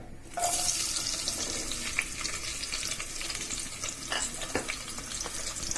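Chopped onion, garlic and green chili hit hot oil in a wok for a chicken curry and erupt into loud, steady sizzling and crackling close by, with a few scraping and clinking stirs and no talk.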